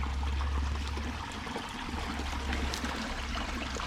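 Creek water diverted into a ditch, trickling and gurgling steadily close by, a soft continuous flow with a low rumble underneath and no talking.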